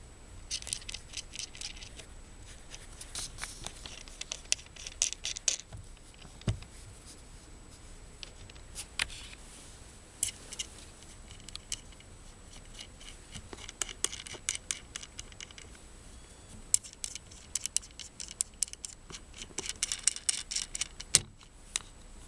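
Small metal wheels and knobs on a Kamerar SD-1 camera slider dolly being loosened and twisted at each corner, giving close, dry scratchy clicks and jangly rattles in irregular bursts with quiet gaps between.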